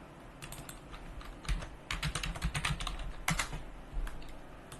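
Password being typed on a computer keyboard, a close, quiet run of irregular key clicks in short bursts with brief pauses between them.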